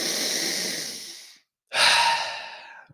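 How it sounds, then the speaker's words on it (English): A person breathes deeply in a breathwork exercise, with one long, rushing exhale, a brief silence, then another strong breath up close, loud and airy. "We're going to continue for about 3 more breaths now."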